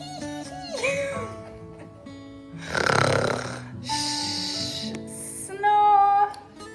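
A person reading aloud imitates a dog snoring, making loud, drawn-out snoring and snorting noises in several separate bursts, with a voice between them.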